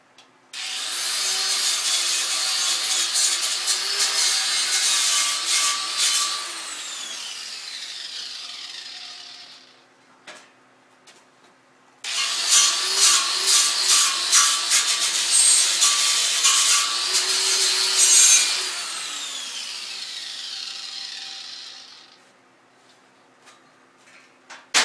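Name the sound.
grinder grinding near a mini lathe stand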